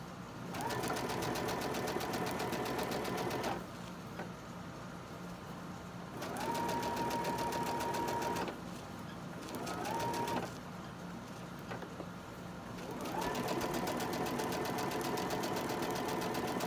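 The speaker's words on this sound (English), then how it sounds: "just put underneath the machine, start up here at the edge, and sew this next strip on" Sewing machine sewing a quilt strip for a beginner block, running in several steady stitching bursts with short slower or quieter stretches between, moderately faint and close.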